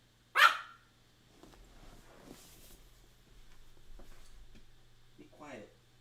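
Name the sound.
dog barking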